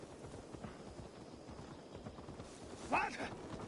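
Horse hooves clip-clopping in Assassin's Creed Valhalla, a steady patter of hoofbeats under game voices and background sound, with a brief louder burst near the end.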